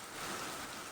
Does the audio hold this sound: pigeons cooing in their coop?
no